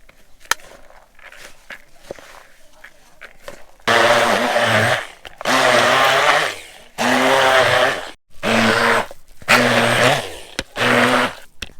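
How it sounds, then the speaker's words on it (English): A blender blitzes vegan sausage ingredients in five loud, close bursts of whirring motor of a second or two each, separated by short pauses, after a stretch of quieter clicks and handling noise. "I'm going to blend all of these ingredients up with this"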